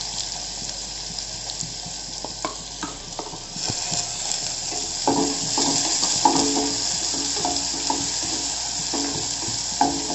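Finely chopped onions frying in a little hot oil for a pepper-heavy mushroom soup, a steady loud sizzle with scraping stirs and clinks of a utensil against the pan, no voices.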